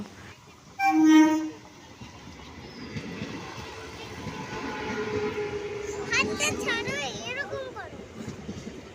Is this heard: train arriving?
yes